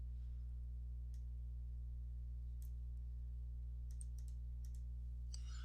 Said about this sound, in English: And what we'll do is type in each of those functions.